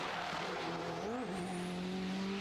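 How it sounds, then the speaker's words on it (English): A Honda race car at an Oulton Park racing championship screams past loud and near, its high engine note rising and then dropping in pitch as it goes by, with no talk. "Car sounds unbelievable as it goes past. Absolutely screams."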